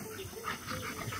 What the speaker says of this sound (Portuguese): olha o tamanho desse cachorro, um bebezão ainda